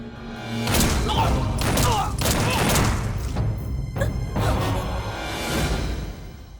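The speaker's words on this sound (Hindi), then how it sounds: "I said shoot them." Gunfire from guns in a Hindi-dubbed South Indian action movie scene, a dense burst of shots with whooshes and booms running loud and continuous for several seconds, then a brief lull and another burst.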